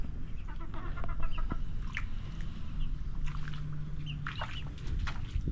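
Native hens kept on a small farm cluck in short, scattered calls, one or two birds fairly close among a steady low outdoor hum, with no talk over them.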